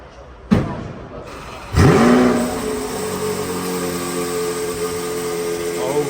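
A Lamborghini Countach supercar engine roars up loudly with a sharp burst of revving, then settles into a strong sustained drone as the car moves, with people talking over it.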